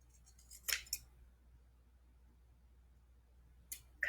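Scissors snipping fabric for a Japanese fabric flower: a quick pair of crisp, close cuts, then a quiet pause and another snip at the end.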